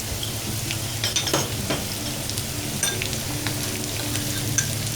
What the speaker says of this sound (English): So once the oil is hot, we start with the onions first, green chili,